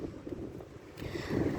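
Strong wind gusts across a backyard garden, a low rushing rumble buffeting the microphone and building slightly toward the end, with no voices.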